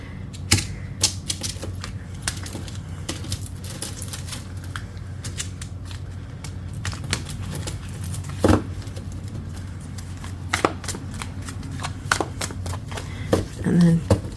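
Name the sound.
shuffling a deck of tarot cards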